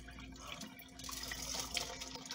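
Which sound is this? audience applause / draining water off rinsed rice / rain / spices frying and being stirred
draining water off rinsed rice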